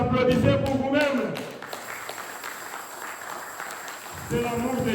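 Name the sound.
congregation applauding in church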